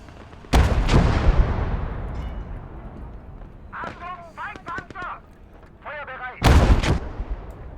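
Artillery and gunfire in a World War II video game battle during the fall of France: two heavy booming blasts open and close the stretch, with scattered shots and voices talking in between.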